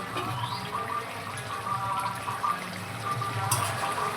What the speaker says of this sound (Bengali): দেখুন তরকারিটা কত সুন্দর ফুটছে